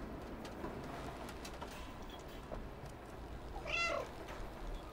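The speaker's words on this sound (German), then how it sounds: "Aber ich mag das Mauzen." The cat in the video game Stray gives a short meow against a faint background of game ambience, with soft ticking sounds and a cooing bird-like tone, all quiet with no speech.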